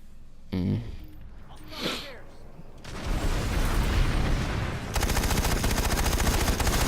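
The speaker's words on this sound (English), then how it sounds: "Very fast rate of fire." A rapid-firing video game gun rattles in a fast, even stream of shots, at first one longer burst, then a sharper, tightly spaced volley, after a short stretch of talk and softer sounds.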